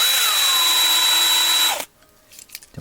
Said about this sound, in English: you don't want to kill this thing and drill it super strong through